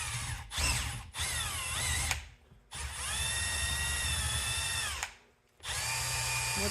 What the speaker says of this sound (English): Grab the trusty step bit.